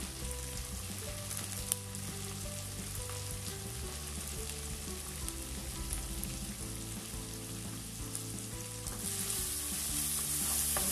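Bell pepper, garlic and colorau sauté in a pan with a dense, continuous sizzle under background music, the frying growing a little louder near the end.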